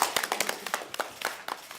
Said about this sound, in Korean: 박수 한번 치고 시작하겠습니다